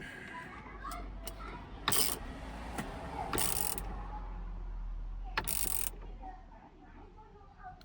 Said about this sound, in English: Now time to tighten the bolt.